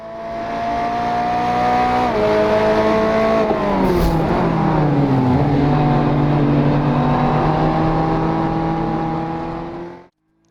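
Several racing cars, including a Golf BMW and a Porsche, run together on a circuit in Hungary, engines droning loudly and continuously with rising and falling pitch as they shift gears, then cutting off abruptly at the end.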